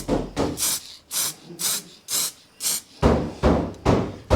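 A rattle-can spray paint hisses in short bursts as the first coat is misted onto a BMW E91 330d bumper, seven or eight loud, close puffs with brief pauses between them.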